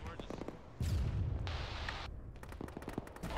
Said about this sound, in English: Rocket, rocket, rocket.